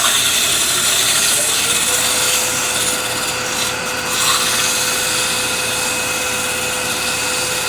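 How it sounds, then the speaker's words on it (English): Sandpaper rubs the inside of a turned wooden ring box spinning on a lathe, a continuous loud abrasive hiss over the lathe's steady hum. "sand the inside of it."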